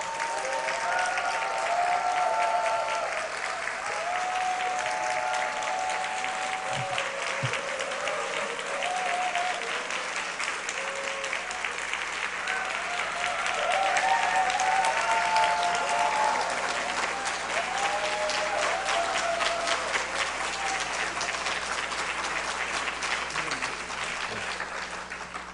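A church congregation applauds to welcome a visiting pastor from a London church, with sustained, dense clapping that swells and fades across the whole stretch, with faint tonal sounds running underneath.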